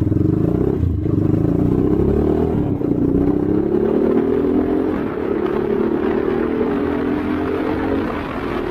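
A Rusi Sigma 250cc motorcycle engine runs loud and steady throughout, its throttle held with a slight rising rev and a constant low rumble, with no voices.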